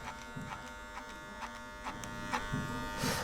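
An electric hair clipper runs steadily during a barber's haircut, neatening the top line with a comb guiding hair into the blades, its buzz rising in brief bursts as it passes through.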